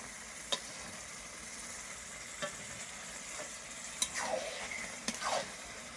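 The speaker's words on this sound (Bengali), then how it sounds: "খুন্তি দিয়ে নাড়া হচ্ছে" Meat being stirred with a metal spatula in a pot: a few sharp scrapes and clinks over a faint, steady sizzle, quiet and close, with no talking.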